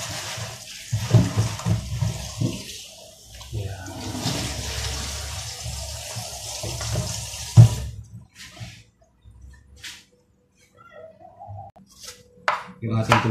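Tap water runs steadily over a pumpkin being washed in a kitchen sink for several seconds, then cuts off, followed by scattered knocks and clatter of handling produce and utensils.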